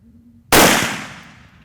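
A single loud rifle gunshot fired while hunting wild ox, a sharp close crack that breaks a near-silent background and then fades in a long rolling echo.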